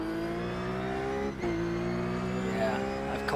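Several race cars in the iRacing video game roar past with sustained high engine whine, pitch shifting as gears change, a brief dip near the middle, fairly faint and heard alone.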